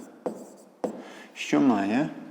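Handwriting during a fifth-grade maths lesson, with two short, crisp pen scratches on paper in a quiet room, followed by a voice speaking.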